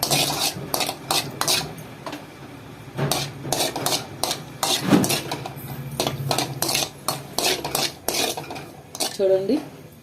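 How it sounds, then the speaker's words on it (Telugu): Cashews frying in a little oil in a pan, stirred with a metal utensil: repeated sharp clinks and scrapes come in irregular bursts over a low background, with no talking. "ఇప్పుడు జీడిపప్పు వేగిపోయింది కదా"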